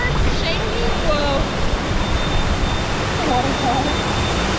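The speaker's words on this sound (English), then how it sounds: "Waterfall." Rushing, splashing water surrounds riders on the Gang Plank Falls family raft slide at Typhoon Lagoon, a constant loud broadband roar with faint voices beneath it.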